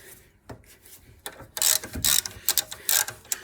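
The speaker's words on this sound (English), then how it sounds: "So the lower one, you can use a socket and wrench like this" A ratchet socket wrench works on a 13mm caliper bracket bolt during a rear brake job on a Rover 75, giving short bursts of close, crisp clicking in an uneven rhythm with quiet gaps between strokes.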